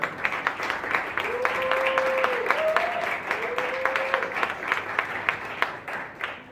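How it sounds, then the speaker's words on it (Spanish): Audience applause at a book presentation, a steady patter of clapping hands from a modest crowd, heard under and after a voice speaking, with some sharper individual claps near the end. "Un aplauso, por favor."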